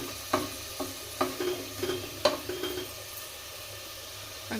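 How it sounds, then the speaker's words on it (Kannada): Tomato frying in a pan for soybean pulao, with soft sizzling under repeated scraping and stirring knocks from a spoon, several distinct clatters spaced through the clip, close and fairly quiet. "ಇವಾಗ ಟೊಮೊಟೊ ಫ್ರೈ ಆಗಬೇಕು."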